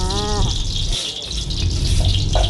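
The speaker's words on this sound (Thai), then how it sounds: "ตั้งกระทะให้ร้อนนะจ๊ะแล้วก็เทน้ำมันลงไปเลยจ้า" Cooking oil poured into a hot pan while making Thai basil beef, a liquid gush with a bubbling sizzle, close and fairly loud, with a brief rising tone at the start.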